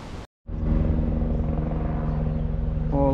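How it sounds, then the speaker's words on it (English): SES helicopter passing over the flooded Hawkesbury River, a steady rumbling engine drone with rhythmic rotor chop, fairly close and loud after a brief silent gap, no speech. "Oh, look, it's one of those new SES helicopters."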